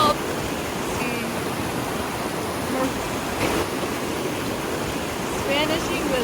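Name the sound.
waterfall at camp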